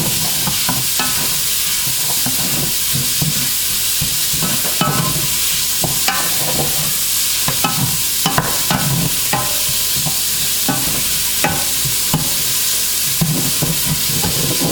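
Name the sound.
sauteing peppers in olive oil in a pan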